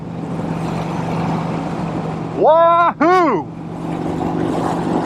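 A Vincent Rapide motorcycle engine drones steadily under wind noise while riding, then revs sharply twice in rising and falling whines, with a shout between them.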